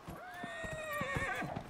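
A horse in the video game Dragon Age Inquisition gives a loud, drawn-out whinny that rises and then trails off, while its hooves clip-clop rhythmically beneath it.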